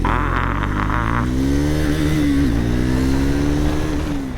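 A loud Triumph Scrambler 400X motorcycle engine revs up and accelerates hard from 0 to 100, its pitch climbing steadily with a brief dip as it shifts gear, continuous and close.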